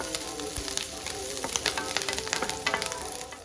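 Chopped curry leaves stirred into a sizzling Kerala masala dosa filling of ginger, green chilies and garlic in a pan, close crackling fry with scraping spoon strokes throughout.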